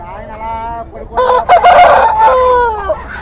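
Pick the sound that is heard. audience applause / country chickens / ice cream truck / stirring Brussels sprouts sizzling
country chickens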